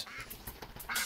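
A duck quacks in a duck hunting video game, a short burst of quacking heard close and clear over a low background hiss, with no talking.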